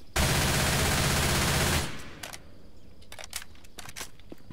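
A standard Uzi firing in a Left 4 Dead 2 weapons mod, one loud, continuous automatic burst close up that stops abruptly, followed by a few quieter clicks and mechanical handling sounds.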